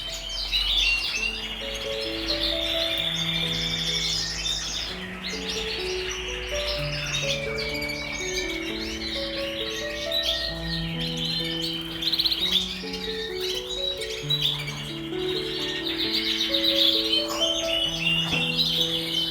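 Dense, continuous chorus of Gloster canaries chirping and warbling, many birds at once, bright trills layered over a steady rustle throughout.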